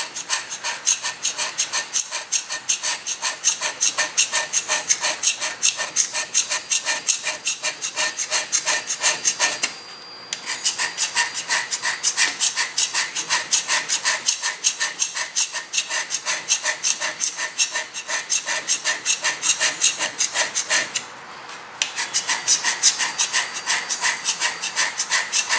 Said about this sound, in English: Now what we've done is we've just scraped this.